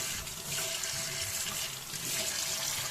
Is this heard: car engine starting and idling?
no